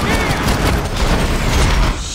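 Dense, continuous gunfire from the video game Max Payne 3 (a fusillade of rapid, loud shots) fills two seconds of action with no voices over it.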